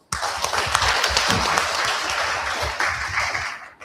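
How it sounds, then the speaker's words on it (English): Audience applause at a university festival day in Papua New Guinea, a dense steady burst of many hands clapping close by for nearly four seconds, fading slightly at the end. "Let's give it a round of applause."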